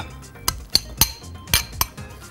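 A metal spoon breaks up raw minced meat mixed with black pepper and other seasonings in a dish, giving about six sharp clinks and taps at an irregular rhythm, close and fairly loud, with no voices.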